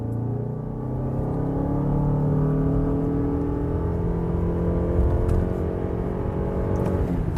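A Lexus RX 450h+ plug-in hybrid's combustion engine starts and pulls away, a steady loud hum that rises in pitch as the car accelerates, with no talk over it.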